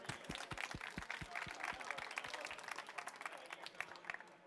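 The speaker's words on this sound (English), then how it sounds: "So a round of applause for Eben Upton." Audience applause at a Raspberry Pi talk, dense steady clapping from a crowd filling the whole stretch, with a few sharper nearby claps standing out early on.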